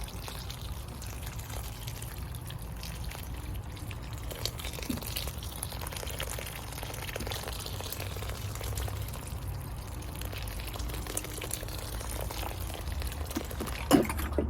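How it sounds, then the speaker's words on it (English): Water poured onto organic potting soil in a garden pot, a faint, continuous trickle and splash with low background hum and a small knock near the end. "I've got some organic potting soil in here, and I'm going to water it, get it good and moist."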